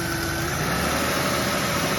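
Engine of a 2003 Pontiac Silhouette van with a coolant leak, running with the hood open: a loud, steady, close-up mechanical drone and hum without a clear rise in pitch.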